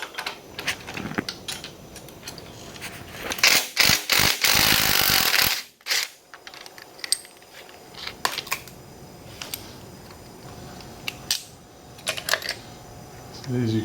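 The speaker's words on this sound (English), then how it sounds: "Now we can remove our cam gear and get the timing chain off and pull the cam out." Cam gear and timing chain being removed from a Ford 302 V8 in a 1966 Bronco: metallic clanks, taps and tool knocks, close and irregular, with a burst of loud rattling midway and some talk around it.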